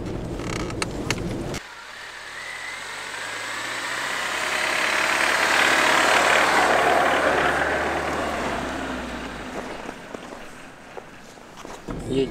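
A car engine drones while driving along a forest track toward a lake in early winter, swelling louder mid-way as the vehicle pushes on, with rattles and knocks from the cabin at start and end.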